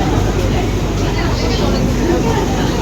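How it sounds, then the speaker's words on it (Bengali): An air-conditioned Sealdah–Ranaghat local train runs toward Dum Dum Junction, heard from inside the carriage. A loud, steady rumble of wheels and motion fills the whole stretch without a break. "ট্রেন এখন আমাদের চলেছে দমদম জংশন"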